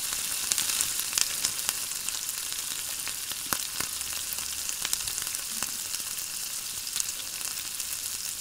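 Tomatoes frying in a pan with golden-browned ingredients for a ridge gourd milk curry, a steady close sizzle broken by scattered spatula taps and stirring scrapes, no voices.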